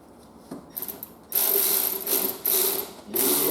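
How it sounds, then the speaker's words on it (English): A powered ratchet wrench on extensions snugs up CV axle bolts on a 2007 Aston Martin V8 Vantage; a few quiet clicks give way to three loud, close bursts of whirring ratcheting with brief pauses between. "Through the magic of various extensions and a powered wrench, we can sort of snuggle these up."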